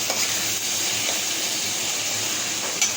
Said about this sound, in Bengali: পেঁয়াজ কুচি রসুনটাকে গ্রেট করে নিয়েছে, আর আদাটা আর লঙ্কাটাও গ্রেট করে নিয়ে এখন সর্ষের তেল দিয়ে ভাজছে মা।